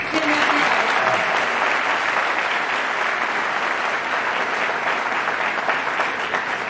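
An audience at a Hindi comic poetry event gives sustained, dense applause in honour of Padma Shri Surendra Dubey, loud and steady throughout.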